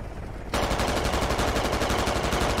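A BMP armoured vehicle's autocannon fires a fast, loud stream of rounds in the shooter game Squad, starting abruptly after a quiet moment and continuing as rapid, evenly spaced bursts to the end.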